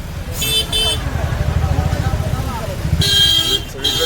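Car and motorcycle horns honk in a night traffic jam on a crowded road during a pilgrimage procession. Two loud bursts of horn blasts stand out over a low engine rumble, with people talking nearby.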